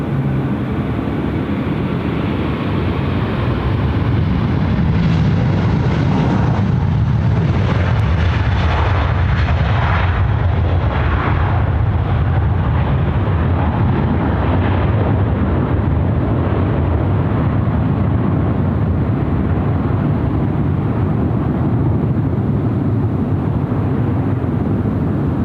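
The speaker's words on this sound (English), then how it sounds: "The big A380 now." An Emirates Airbus A380 takes off at night from Sydney Airport, a loud, continuous jet roar with broad rumble that holds steady and swells slightly mid-run, heard from nearby without talk.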